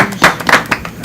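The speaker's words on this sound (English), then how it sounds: "So they deserve a round of applause" A handful of distinct claps at a county commissioners meeting, close and sharp, spaced irregularly across about a second rather than forming full applause.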